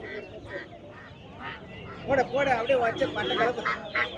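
Native ducks quack repeatedly at close range at a livestock market in Valliyur, their calls overlapping in bursts, while people talk nearby amid a busy background murmur.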